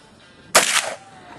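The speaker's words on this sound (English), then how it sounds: "we got Jullian with the 50 caliber muzzle loader again" A single loud, sharp blast from a Thompson Triumph .50 caliber inline muzzle loader firing black powder outdoors at a target on a hill, followed by a short rolling echo that fades quickly.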